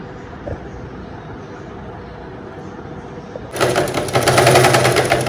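A quiet room hum gives way midway to a loud, steady run of a sewing machine stitching the top seam of a lining. The machine drone continues to the end with no talking.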